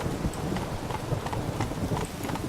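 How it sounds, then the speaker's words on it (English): Horse hooves clip-clop steadily as a horse is ridden through palace gardens in The Witcher 3: Blood and Wine, a continuous, close rhythmic trot over a low ambient bed with no speech. "Now we'll just ride our horse all the way over."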